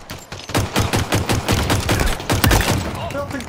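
Rapid, evenly spaced pistol shots in Halo Infinite multiplayer crack loudly and close, a steady string of roughly a dozen rounds, with an announcer voice speaking near the end.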